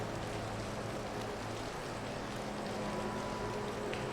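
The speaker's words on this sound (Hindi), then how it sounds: "देखो बरसात खूब बरस रही है" Heavy monsoon rain pours steadily at an outdoor yoga session, a dense, even hiss of falling water with scattered drop patter, continuous and fairly loud with no voices.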